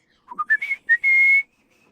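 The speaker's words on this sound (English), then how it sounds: "We were told that when you whistle at night, snakes and dwarfs will come to your house." A short melodic whistle: a few rising chirped notes, then one long sustained tone, close and clear with no other sound.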